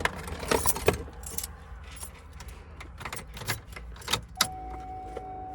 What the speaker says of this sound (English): I'm gonna get my keys.